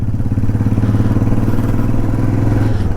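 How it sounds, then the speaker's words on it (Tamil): Motorcycle engine sputtering as it runs out of petrol, a steady low mid-pitched drone with slight uneven pulsing, close and loud throughout with no talk. "ஐயோ வண்டி இங்கேயே அடைக்குதே."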